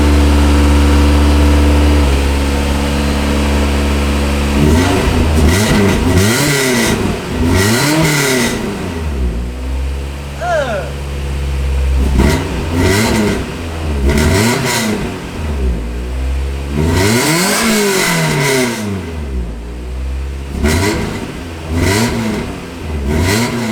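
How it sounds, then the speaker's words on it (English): A Honda EK hatchback with an APEXi muffler, new piping and no resonator, revving repeatedly, its loud engine note climbing and falling in sweeping pulls over a steady idle, close up and with no talk. "Exhaust is back, but this time with new piping and no resonator, so hopefully it sounds, let's just pray it sounds good."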